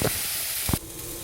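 Onions and mushrooms cook in a pan, a short close burst of hissing sizzle with a couple of brief scraping stirs before it settles to a quieter simmer.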